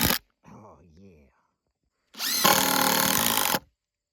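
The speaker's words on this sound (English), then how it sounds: "Let me put some screws in it." A power drill drives screws into a four-foot rustic live-edge wooden bench, with one loud steady whir lasting over a second after a short squeaky rising tone and brief silence.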